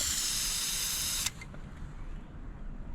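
A Rust-Oleum spray paint can releases a steady, loud hiss of spray for just over a second before cutting off sharply, leaving faint room noise.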